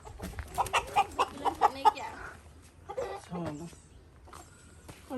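Chickens bought for a village home in Chitwan, Nepal, cluck in a quick series of short calls near the start, with a voice speaking over the birds and scattered farmyard noise afterward.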